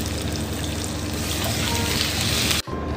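Loud, steady sizzling of squid and shrimp frying in a hot pan, a dense crackle filling almost three seconds before a brief cut near the end.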